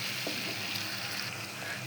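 A spice masala of onion, turmeric, chili powder, ginger-garlic paste, cumin paste and salt fries in a pan, producing a steady close sizzle with soft scraping stirs and no talking.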